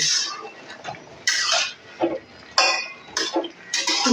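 A spoon scrapes and clinks in a pan of prawn butter masala just after sugar goes in, several irregular stirring strokes close by, with no talk.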